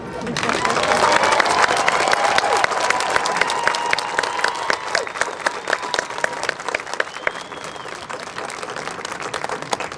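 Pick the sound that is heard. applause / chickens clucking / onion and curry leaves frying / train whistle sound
applause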